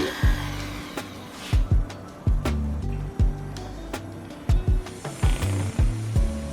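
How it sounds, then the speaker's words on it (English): A small drill whirs in short repeated bursts, drilling holes around a titanium ring, starting and stopping at a steady pace, each run of a second or less, close by. "working our way all the way around the ring, drilling every hole"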